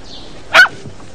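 A single sharp, close dog bark, brief and loud against a quiet background with a faint whine just before it.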